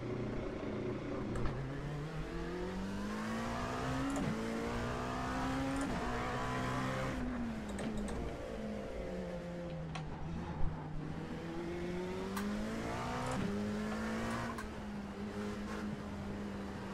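Dallara P217 prototype race car engine in the iRacing sim at the Nürburgring, a continuous high-pitched drone rising and falling through gear changes, steady and close with no voices over it.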